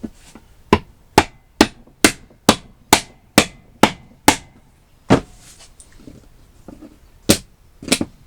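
A glued, foam-backed test piece is beaten against plywood in a workshop, giving a rapid series of sharp, loud knocking strikes in a steady rhythm, then a pause and a few scattered hits.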